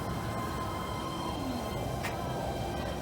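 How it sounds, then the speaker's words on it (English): A photo train at Disneyland Paris rumbles past faintly, a low steady rolling sound with a brief high squeal partway through. "Wait for the photo train to come past. I think it's coming now."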